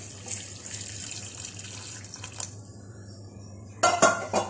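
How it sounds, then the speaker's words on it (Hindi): Hot water pours into a pot of goat trotters with a soft trickle, followed by a few sharp metallic clinks of the pot or lid near the end. "इसके अंदर यहाँ गर्म मैंने इसमें पानी किया है, आधा लीटर पानी इसमें और डालेंगे"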